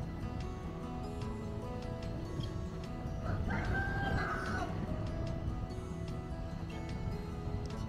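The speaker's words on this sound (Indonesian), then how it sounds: "Ada suara ayam." A rooster in a neighborhood of Ambon crows once at moderate distance, a drawn-out call rising over steady background noise and faint clucking.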